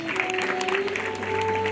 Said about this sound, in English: A round of applause to them as they come in.